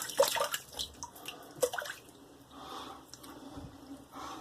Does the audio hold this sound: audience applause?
no